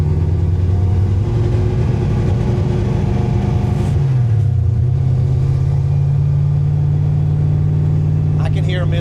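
A car engine fitted with an Anderson N91 camshaft, running with one misfiring cylinder, drones loud and close with a lumpy, uneven idle, and the pitch dips and settles midway through.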